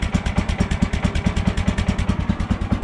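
Small engine of a Woodland Mills portable sawmill, just pull-started in below-freezing cold, idling close and loud with a steady, rapid chugging pulse and a mechanical clatter, no voices.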